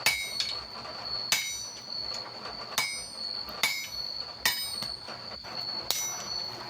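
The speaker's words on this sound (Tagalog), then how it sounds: "Pinupukpok natin sa power hammer." A power hammer pounds softened steel for a camp knife in sharp, ringing blows repeated at a steady pace of roughly one to two per second, with a bright metallic tone and no voices.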